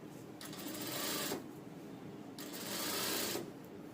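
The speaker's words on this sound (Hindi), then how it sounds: "सिलाई लगाते हुए चलिए।" A sewing machine stitches a princess-cut padded blouse in two bursts of rapid whirring, each about a second long, with a short pause between them, close by and otherwise alone.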